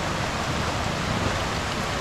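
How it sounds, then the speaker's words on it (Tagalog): Steady rain falls outdoors near a waterfall, a continuous even hiss of drops with no voices. "At umuulan."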